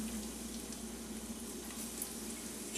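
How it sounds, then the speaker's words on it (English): Shrimp deep frying in hot oil, a steady broadband hiss and crackle of bubbling oil that holds even and continuous throughout with no voices. "you're just going to drop them into your oil"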